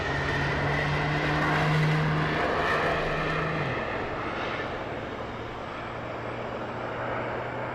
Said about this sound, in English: look at this little JetBlue A220 coming in